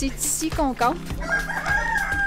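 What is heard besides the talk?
roosters crowing at campsite in Mexico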